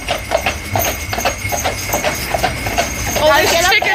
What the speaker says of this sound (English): Oh, Sadie likes trotting up the hill.